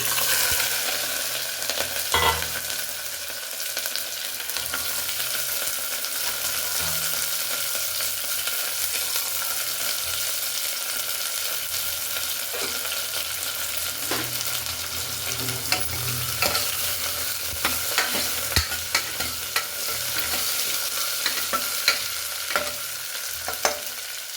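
Vegetables for vegetable pongal sizzle steadily in a hot pan for a long stretch, with occasional clinks and stirring scrapes over the continuous frying hiss.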